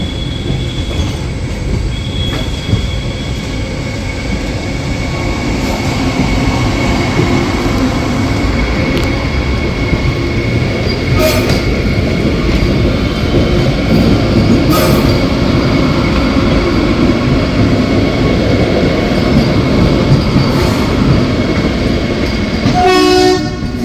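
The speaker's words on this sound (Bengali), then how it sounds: "এমনভাবে ট্রেন ক্রসিং হচ্ছিল" Trains pass and cross near a station on the Dhanbad–Howrah line, a loud continuous rumble of wheels on rails with rhythmic clacking, metallic squeals and a distant horn.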